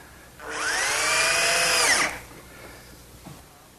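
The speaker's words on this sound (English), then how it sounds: "I'll fasten it in place using some 1-inch drywall screws" A power drill drives 1-inch drywall screws into a wooden medicine cabinet, one loud close whirring burst of about a second and a half that rises and then cuts off, followed by quiet shop room tone.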